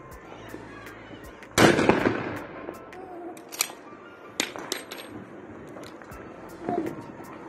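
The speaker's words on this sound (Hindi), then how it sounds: "दिया जलाने को बोला था पटाखे चला दिए" Firecrackers bursting outdoors during the evening lockdown lamp-lighting, one loud nearby blast followed by a scattering of sharper, fainter cracks and pops at irregular intervals.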